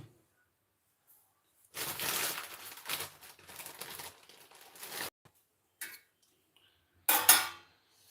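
An iron pan handled during heating to toast bread gives a few bursts of metallic scraping and clattering, close and moderately loud, separated by quiet gaps.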